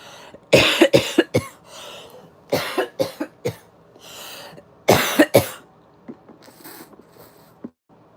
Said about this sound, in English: I'm still having coughing fits.